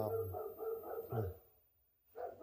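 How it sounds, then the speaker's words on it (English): A dog barks outside on a rural property with cattle and steers, giving a run of muffled, close barks and whines before a pause and another short bark. "She's outside barking."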